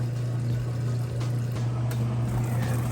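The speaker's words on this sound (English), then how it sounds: "fill back up with fresh rinse water, agitate again for some time" A Whirlpool washer fills with fresh rinse water, a steady rushing flow over a constant low motor hum, close and continuous throughout.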